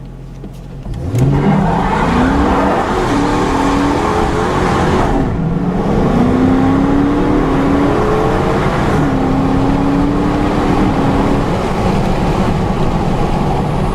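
A 2015 Dodge Charger R/T with the 5.7 Hemi V8 accelerates hard, its loud, close engine note climbing through gears with pitch rising, dropping at each shift, then rising again over steady road roar.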